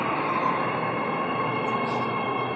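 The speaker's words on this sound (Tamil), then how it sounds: "பாருங்க சவுப்பர் ட்ரெயின் வந்துருச்சு." A metro train arriving at a near-empty station gives a steady, loud, continuous rumble and hiss, close by and with no break.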